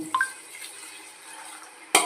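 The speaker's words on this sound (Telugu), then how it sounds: "6 గ్లాసులు వాటర్ వేస్తున్నానండి." Six glasses of water trickle briefly into a mutton biryani pot near the start, then a quiet stretch and a sharp clink or splash at the end; no voices.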